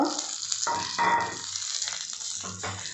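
Chana dal paste sautés in a pan, with soft sizzling and stirring scrapes in short bursts, fairly quiet and close, and no talk over it.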